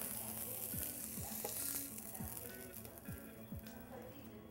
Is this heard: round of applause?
no